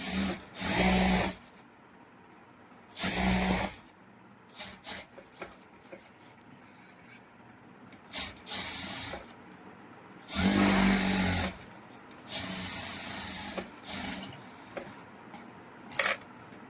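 Tamil tailoring lesson: a sewing machine stitching a fabric neckline, running in four short loud bursts of a second or so each, separated by quieter handling and rustling, with no talk.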